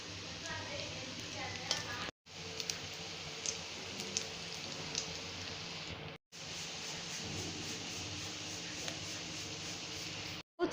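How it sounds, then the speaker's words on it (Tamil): Chow chow cutlets deep frying in oil give a steady, dense bubbling sizzle, fairly soft and even throughout, broken by two brief silent cuts. "இப்போ வந்து எண்ணெயில் டீப் ஃப்ரை பண்ணுவோம்."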